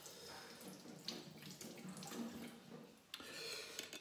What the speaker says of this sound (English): just going to wash the hands first